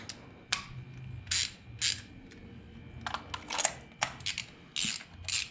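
Ratchet with a magnetic socket on an extension loosening a spark plug on a Hyundai Genesis Coupe: repeated short, crisp clicking bursts at an irregular rhythm, close up with no talk.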